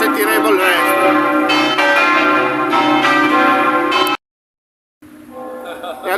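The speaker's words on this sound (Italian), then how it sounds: "al termine delle campane" Church bells ring out at Rivignano on the eve of the Fiera dei Santi, a rich, sustained peal with dense overlapping tones, cutting off abruptly into a brief silence before a quieter resonant tail resumes.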